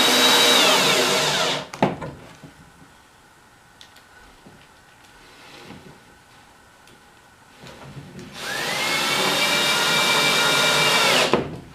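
A power drill drives hinge screws into a wooden five-board bench in two long, loud, steady whirring bursts separated by several seconds of quiet handling noise.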